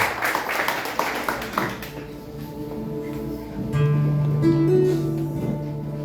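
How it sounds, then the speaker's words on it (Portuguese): A church congregation claps for about two seconds, a dense run of loud hand claps that fades out as sustained music tones take over. "Pode aplaudir a Jesus"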